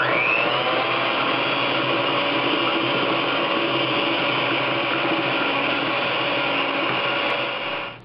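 Electric mixer whirring steadily as confectioner sugar is beaten into a cake frosting, a loud, even motor whine that runs alone for several seconds before cutting off at the end.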